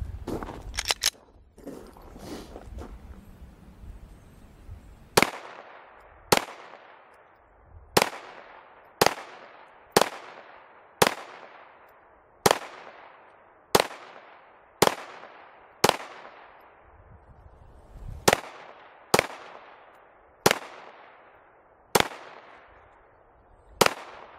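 Glock 17 pistol fired outdoors at bottles and jugs: about fifteen sharp, loud single shots spaced roughly a second apart with short echoing decays, after some faint handling noise.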